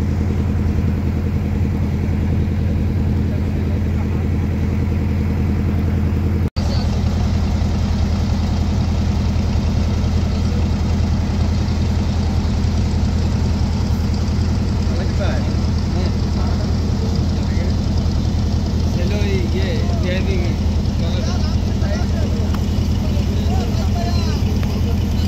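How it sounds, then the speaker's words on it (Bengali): Small boat engine rattling and droning steadily on a Sundarbans river trip, a constant loud mechanical chugging that runs unbroken from start to finish. "ইঞ্জিনের খটখট শব্দ"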